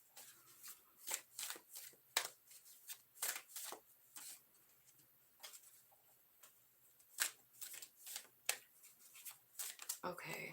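A past life tarot deck is shuffled by hand, giving repeated crisp riffling bursts in an irregular rhythm. The shuffling is close and fairly quiet, with a few soft sounds between bursts.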